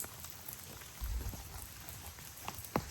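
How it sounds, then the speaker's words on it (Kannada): Light rain falling at night on a campsite with a tent, a faint, steady patter with a few sharper drips, distant and soft, no voices. "ಮಳೆ ಸ್ಟಾರ್ಟ್ ಆಗಿದ್ದು ಲೈಟಾಗಿ ಅದು ಬರ್ತಾನೆ ಇದೆ"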